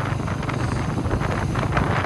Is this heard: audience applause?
no